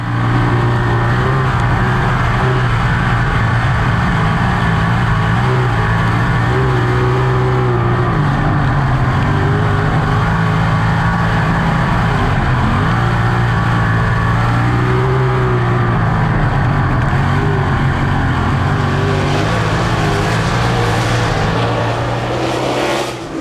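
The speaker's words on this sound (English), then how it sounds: "Rico ended up winning a feature at the Ohsweken Speedway Summer Sprint Car Nationals" Sprint cars racing at Ohsweken Speedway during the Summer Sprint Car Nationals, a loud sustained roar of several engines rising and falling as they pass, with a surge of engine noise near the end and no speech.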